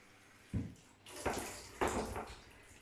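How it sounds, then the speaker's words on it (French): Tap water splashing over potatoes being rinsed in a kitchen sink, coming in three short bursts that grow stronger and longer, fairly close and moderately loud, with no talking. "Et rincer mes patates comme je vous l'ai dit."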